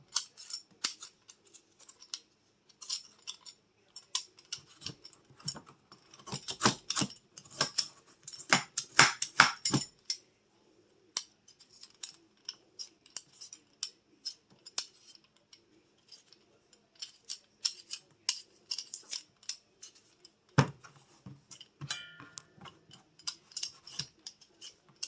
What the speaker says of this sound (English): long motions from the top to bottom will get the potatoes peeled the quickest